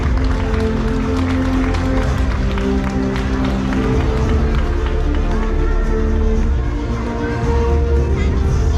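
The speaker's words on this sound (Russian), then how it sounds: "Аплодисменты победителям." Sustained crowd applause at an awards ceremony for a talent festival in Yakutsk, steady dense clapping throughout with music-like tones underneath.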